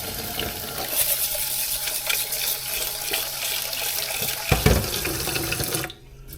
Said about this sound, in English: Put you some water in there.